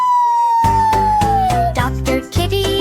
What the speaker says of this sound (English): Just siren sound.